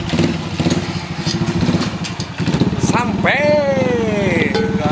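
A new motorcycle runs steadily close by with a low, rumbling engine, while people talk loudly over it throughout.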